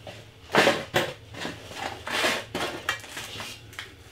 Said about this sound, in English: On the tray, get them in the oven.